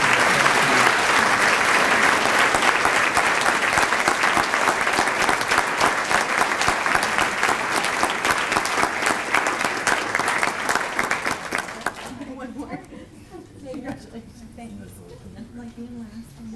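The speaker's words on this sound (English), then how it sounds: "Please let's give them all a round of applause" A large audience at a Teacher of the Year ceremony gives honored teachers loud, continuous applause for about twelve seconds, then it drops off sharply and a voice speaks over scattered remaining claps.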